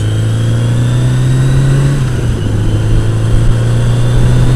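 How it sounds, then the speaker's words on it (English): A motorcycle exhaust thrums loudly up close with a deep, steady engine note. Its pitch shifts slightly partway through, as if the throttle eases and then comes back, without any voices. "Motorcycle exhausts."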